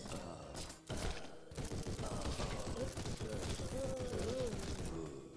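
Airstrike explosions in the zombie survival game Deadly Days pound in a rapid, continuous barrage of booming blasts and crackling gunfire-like bursts that stay dense and loud through the whole stretch.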